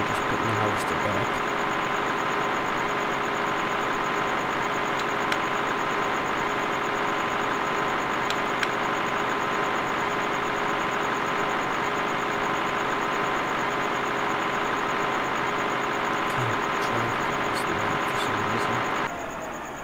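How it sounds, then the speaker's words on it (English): The steady drone of a harvester engine runs throughout in Farming Simulator 2013, a constant mid-pitched hum with a high whine on top and a few faint clunks. "And now we're just putting the harvester back."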